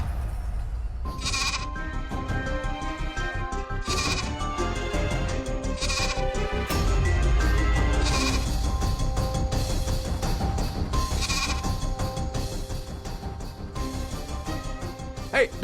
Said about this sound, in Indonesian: dari mana kambing itu datang?